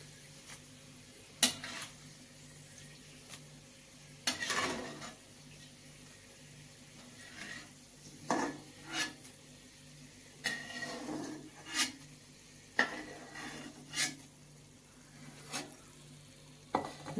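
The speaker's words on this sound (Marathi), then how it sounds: "आपण आता हे शेंगदाणे झालेले आहेत, काढून घेऊ." Fried peanuts being scooped out of hot oil in a pan while making crispy poha chivda, with intermittent scraping and clinking strikes over a soft, steady sizzle, fairly quiet and close.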